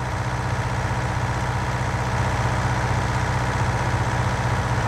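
A tractor engine in the Farming Simulator 2019 video game chugs uphill with a loud, steady, low droning rumble that holds an even pulse throughout, with no voices over it.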